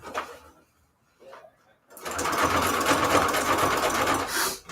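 A sewing machine stitches signatures into a junk journal, starting after a couple of quiet handling sounds and running as a steady, close mechanical whir for a few seconds before stopping.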